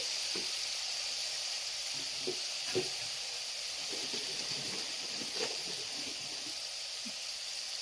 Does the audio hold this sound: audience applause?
no